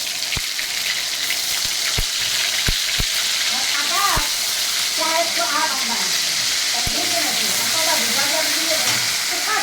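Onion paste sizzles and spits in hot oil in a pan, a dense steady frying hiss punctuated by a few sharp clicks early on, with a faint voice murmuring in the background later.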